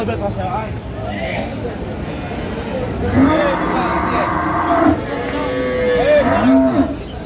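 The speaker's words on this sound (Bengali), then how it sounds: "গাভী বাছুর বেশ সুন্দর" Improved-breed dairy cows and calves moo repeatedly at the Ambari cattle market in Dinajpur. Several loud, drawn-out calls rise over a busy crowd murmur.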